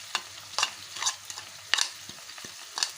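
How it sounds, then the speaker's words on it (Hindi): Sliced onions fry in hot oil with turmeric in a pot for a rice pulao, a steady soft sizzle broken by several scraping strokes of a spoon stirring nearby. "इसमें अब ये थोड़ी सी प्याज डालेंगे"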